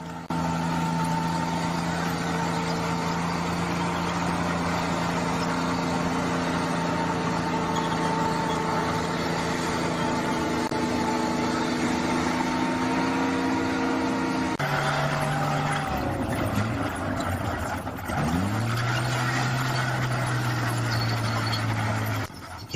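The Maybach HL-230 engine of a restored Tiger I heavy tank drones steadily at idle, then its pitch dips and climbs as the engine is revved and settles again, loud and close throughout.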